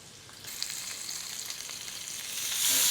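Lamb searing in a hot pan, a steady sizzle and fry that builds louder toward the end, with no talking over it.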